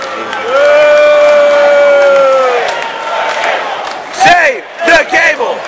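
A large wrestling crowd at WrestleMania 32 roars loudly and steadily through the opening match, then breaks into sharp rising whoops and chants near the end.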